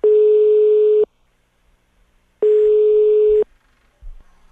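Telephone dial tone sounding during a radio prank call, two loud, steady one-second tones separated by a silent gap, with a faint click near the end.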